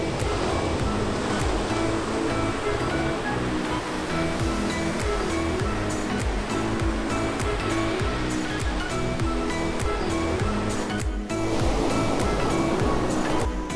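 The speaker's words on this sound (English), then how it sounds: "The sound of the ocean is just, it's almost indescribable." Continuous ocean surf breaks on a sandy beach at Sandbanks Provincial Park, Newfoundland, a loud, steady rushing wash with no pause, heard close and alone.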